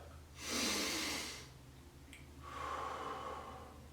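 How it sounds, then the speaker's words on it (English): Two deep breaths, one long airy inhale followed by a slower exhale, sound close and alone over a faint low hum, in a calm relaxation exercise. "Take a few minutes and take a breath."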